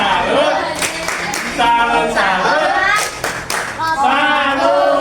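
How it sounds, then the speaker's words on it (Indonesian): Children in an elementary classroom do a rhythmic 'tepuk salut' cheer clap, with sharp bursts of group clapping mixed with voices calling out over it at close range. "kasih tepuk tangan yang meriah"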